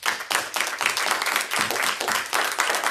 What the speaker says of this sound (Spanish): Vamos a darle un aplauso al Rey.